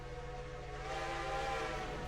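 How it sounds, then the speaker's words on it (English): A train whistle sounds in the railroad video game Railroader, a sustained, fairly faint steam-style tone over a low rumbling engine. "Hear a whistle."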